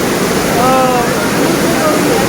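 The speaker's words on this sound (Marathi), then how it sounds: "आंबोलीच्या मुख्य धबधबा क्रमांक एकवर आपण आहोत" The main waterfall at Amboli during the monsoon gives a loud, close, unbroken roar of rushing water while a person talks over it.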